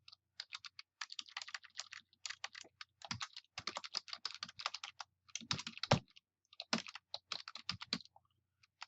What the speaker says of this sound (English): I'm actually typing very slowly right now